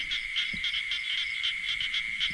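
Frogs croak in a steady rhythmic chorus on a rainy night, backed by a constant high insect drone, with a low rumble of rain and occasional thumps underneath.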